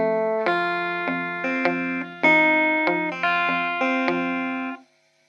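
Clean rockabilly electric guitar plays two bars of a tune, a string of distinct ringing notes and double-stops picked one after another at a steady pace, clear and close, with no talking.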